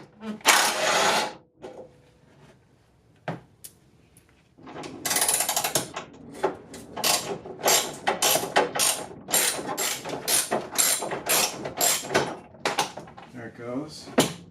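Ratchet wrench clicking rapidly in repeated bursts while backing out 10 mm bolts from the cylinder head area of a 2008 Acura MDX engine, close and loud, with brief pauses between runs.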